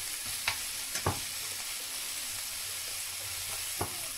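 Sliced potato for a Spanish omelette frying in a pan, a steady broad sizzle with a few sharp stirring clicks and scrapes scattered through, close and moderately quiet, no voices.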